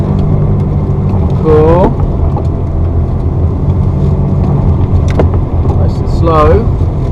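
A Ferrari 360 F1 that hasn't been used for a while, missing its rear bumper, drives slowly in second gear with a steady close engine drone. Two short rising whines cut through it, and a voice speaks briefly.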